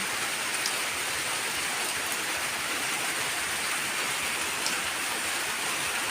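Heavy afternoon rain pours steadily outside, a dense, loud hiss that holds unbroken throughout with no voices.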